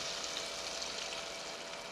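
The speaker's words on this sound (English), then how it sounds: "Now lower your shrimp slowly into the oil. Watch the sizzle." Continuous hissing sizzle of shrimp frying in hot oil, steady and even with no voices.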